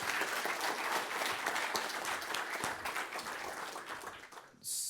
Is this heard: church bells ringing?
no